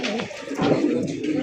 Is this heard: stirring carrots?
no